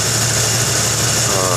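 A Jeep 4.0 inline-six with upgraded 99-and-up injectors and fresh spark plugs runs at a steady idle with barely any throttle, giving a continuous low hum and a hissy mechanical whir close by.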